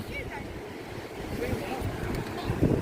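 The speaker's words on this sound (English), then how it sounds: "It's very windy." Strong coastal wind roars and buffets the microphone at about 20 mph beside a favourable sea, steady broadband rumble with gusts strengthening toward the end, a few faint voices underneath.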